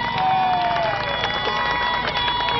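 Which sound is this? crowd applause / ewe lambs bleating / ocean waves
crowd applause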